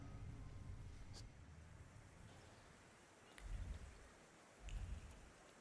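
Rain falling in The Thaumaturge video game, a soft, continuous hiss of rainfall with a few low rumbling swells, alone without talk.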